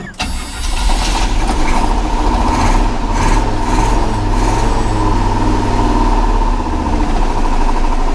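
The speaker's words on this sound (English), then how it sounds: "And we can get it to idle, but she's still missing." A 1985 GMC Sierra 1500 engine with a varnished carburetor starts and settles into a loud, close idle with an uneven, missing beat from a misfire, running steadily on its own.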